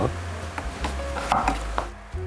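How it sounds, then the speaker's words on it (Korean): King oyster mushrooms trimmed and sliced lengthwise with a kitchen knife on a cutting board, giving a few close, soft chopping knocks against the board without any talk. "위아래를 자른 다음에 길게 슬라이스 해주겠습니다"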